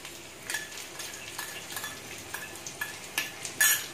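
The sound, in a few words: brinjal paste added to frying pan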